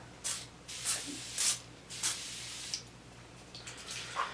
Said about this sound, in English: I usually tend to do a face spray after all of that.